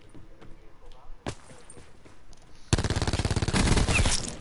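Rapid automatic gunfire from a shooting video game, loud dense bursts of repeated shots filling the second half after a single earlier shot, with faint background noise before.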